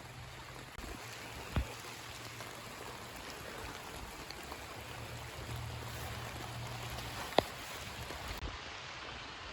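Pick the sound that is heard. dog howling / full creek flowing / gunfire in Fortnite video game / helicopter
full creek flowing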